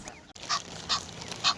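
Geese honk in three spaced, nasal calls, close and fairly loud against a quiet outdoor background, with a brief click just before the first honk.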